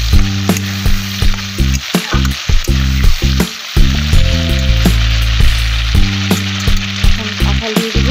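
Potato pieces fry in hot oil with turmeric for a Bengali jackfruit and prawn dish, giving a loud steady sizzle broken by repeated sharp stirring clanks and scrapes of a spatula against the pan.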